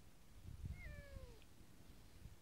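Kitten meowing outdoors in the sunshine, a single drawn-out, falling meow standing out over faint background noise.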